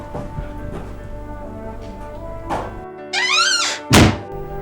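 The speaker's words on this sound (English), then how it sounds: "He banged the door on me." A door is banged shut with a heavy, loud thunk near the end, after an earlier softer knock, over a background of sustained dramatic music.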